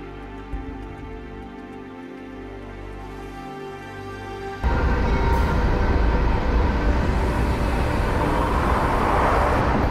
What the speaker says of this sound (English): The train is passing through